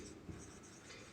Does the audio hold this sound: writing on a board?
yes